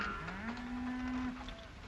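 Cattle being driven to water let out a long, rising moo that holds for about a second, with fainter lowing and a low rumble behind it, in a 1941 western setting.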